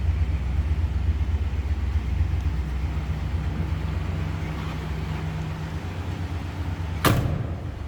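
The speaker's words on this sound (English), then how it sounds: "Door closes, it fits nicely." A 1965 Cadillac DeVille Convertible door shuts with a single loud, sharp slam near the end, after several seconds of low idling rumble from its 429 V8.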